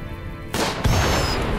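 A blast goes off in the colony-building game RimWorld, a sudden loud boom that breaks over a quieter bed and rolls into a thick, rumbling roar that keeps going to the end.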